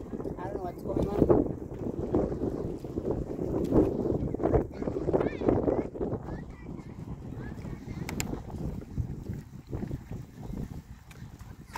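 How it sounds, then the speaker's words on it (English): Strong wind buffets the microphone outdoors in rough, uneven gusts that rise and fall throughout, with people talking underneath the steady blustery roar. "It's so windy."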